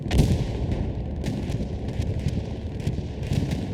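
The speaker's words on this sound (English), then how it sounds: "Here comes the bombing run here" Bombing-run explosions in the video game Hell Let Loose: a rumbling wash of distant blasts and sharp cracks that keeps rolling without a break.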